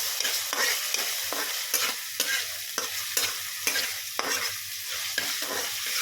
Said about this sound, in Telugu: పచ్చి వాసన పోయేంత వరకు ఇలాగా ఆయిల్లో ఫ్రై అవనిద్దాం